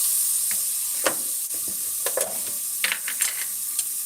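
Garlic frying in a little oil in a home kitchen pan, a soft continuous sizzle with scattered stirring clicks and scrapes, close and without talk.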